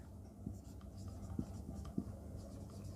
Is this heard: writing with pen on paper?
yes